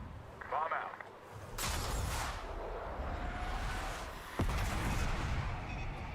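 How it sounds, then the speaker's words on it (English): A bomb dropped in a Call of Duty Black Ops 6 mission comes in as a rushing whoosh and then a heavy, sustained explosive rumble with a second sharp blast, with voices talking over it. "Bomb out."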